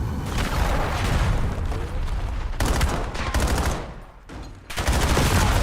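Dense, loud gunfire and heavy explosive booms from a Call of Duty Black Ops 7 collegiate esports match, with continuous overlapping shots, a brief lull near the end, then the barrage returns.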